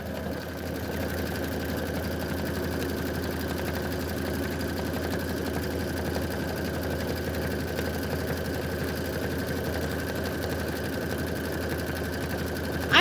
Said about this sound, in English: This is going to be 3 minutes of stitching.